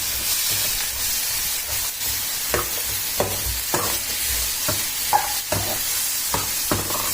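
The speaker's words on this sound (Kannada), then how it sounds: "ಈರುಳ್ಳಿ ಚೆನ್ನಾಗಿ ಫ್ರೈ ಆಗ್ತಾ ಇದೆ." Onions salted and frying in a pan for a mutton kaima ball sambar, a steady broadband sizzle with repeated sharp scrapes and clacks of a spoon stirring at irregular intervals, close and fairly loud with no talking.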